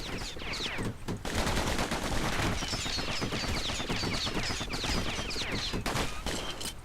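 Slinger pistols firing in Bastion, rapid continuous volleys of close shots with scattered impacts, loud and steady throughout.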